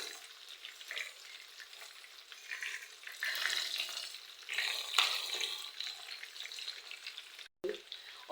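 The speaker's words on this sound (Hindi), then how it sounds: "बस ऐसे इनको अल्टी पल्टी करा के इनको बस फ्राई कर लेना है।" Chicken tender strips fry in hot oil while being turned, a soft bubbling crackle that swells and fades with the turning, then breaks off briefly near the end.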